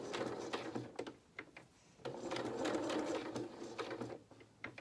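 A sewing machine stitches a fabric mouse ear in short runs. It gives a rapid mechanical clatter that pauses and restarts several times, heard close and quiet with no talking.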